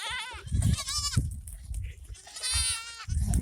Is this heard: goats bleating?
yes